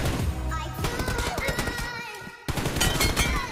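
PUBG Mobile gunfire rattles in dense bursts that run through the whole clip, with a brief drop just before the end and a sharp return.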